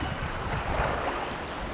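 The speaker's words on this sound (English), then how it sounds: "Looks like I got another rapid up here" Rushing water of river rapids on the Colorado River, a loud, dense roar with wind buffeting the microphone, continuous and close throughout.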